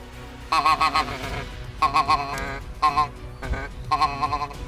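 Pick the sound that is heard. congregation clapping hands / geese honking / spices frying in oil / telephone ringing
geese honking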